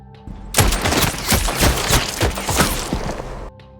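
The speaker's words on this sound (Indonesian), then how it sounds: "Detik berikutnya, tembakan meletus." Sustained burst of rapid gunfire, loud and close, with dense overlapping shots rattling for about three seconds before cutting off.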